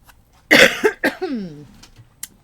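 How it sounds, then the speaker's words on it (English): One loud, close cough, followed by a brief throaty sound, in an otherwise quiet room. "pardon my cough"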